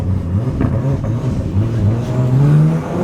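A rebuilt 600bhp Toyota Supra engine revs with anti-lag active, a loud, rough, close drone that rises and falls in pitch across a few rev swells, with popping bursts mixed in.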